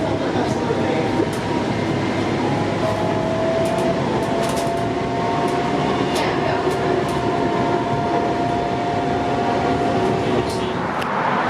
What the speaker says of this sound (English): There goes a southbound train.